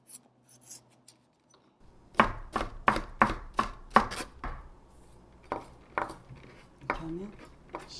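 A knife chops green chili peppers in a quick run of about eight sharp, close cuts, followed by a few slower, scattered slices.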